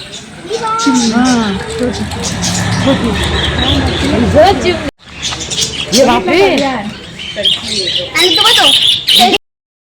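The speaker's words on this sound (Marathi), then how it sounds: "काय इथे पोपट आहे. कबूतर का हे असे वेगळेच कबूतर." Parrots and pigeons in a village market in Vaghai, Gujarat, giving loud, rapid chirps and squawks up close over market chatter.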